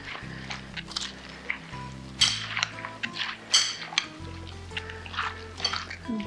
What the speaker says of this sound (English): Now we can give that a mix.